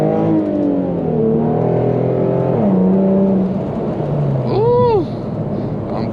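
Infiniti G37 with a V6, all-wheel drive, pulling hard: a loud, steady engine drone rising in pitch through the gears, with a brief whining sweep near the end, recorded from inside the car.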